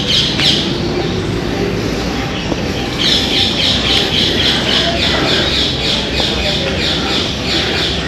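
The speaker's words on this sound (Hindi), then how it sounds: "चिड़ियों की आवाज़" Birds squawk and chirp loudly and continuously outdoors, a dense chorus of harsh calls with repeated sharp notes layered over steady background noise.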